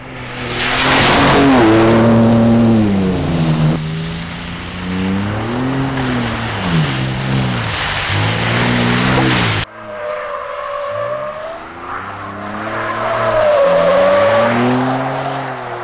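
Ford Ranger Raptor 2023 pickup with a 3-litre V6 and all-wheel drive, roaring loud and close at speed on a test track, engine note rising and falling through gear changes with tyre noise.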